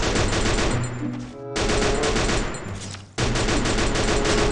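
An M60 machine gun fires rapid bursts in the Free Fire video game, loud and close, with two brief pauses between long strings of shots and no speech.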